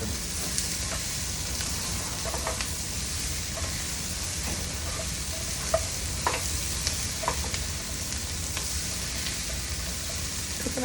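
Sweet and sour pork stir-fried in a single pot over a high flame on an outdoor butane stove, with a steady loud sizzle broken by scattered scraping and clinking stirs throughout.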